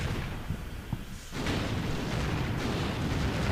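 Artillery shells exploding in a war video game, with a dull boom near the middle followed by a broad, continuous rumble of distant blasts that persists to the end.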